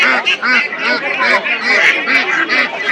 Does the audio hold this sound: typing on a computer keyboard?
no